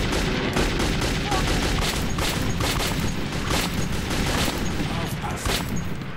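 Sustained gunfire from the video game Metro 2033 rattles loud and close in rapid bursts, booming shots layered over one another with a faint voice underneath.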